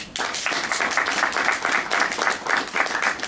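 An audience at a public meeting on an inter-island power cable claps steadily, a dense sustained patter of many hands from a moderate-sized crowd with no talking.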